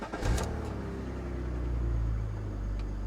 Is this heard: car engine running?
yes